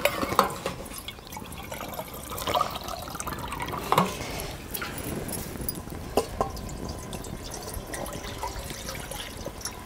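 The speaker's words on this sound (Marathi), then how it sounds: "आता एक अर्धा पाऊण तांबे मी पाणी ओतले." Water poured from a pot into mutton cooking on a wood-fired stove, a steady wet splashing and trickling with small irregular plops, moderately close and continuous with no talk.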